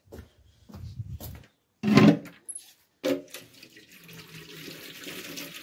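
Water runs from a tap in short bursts, then flows in a steady stream, with a few clunks of handling nearby.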